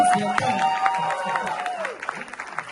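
Audience applause at a talk, a moderate round of clapping under a voice and tonal sound that thins out toward the end.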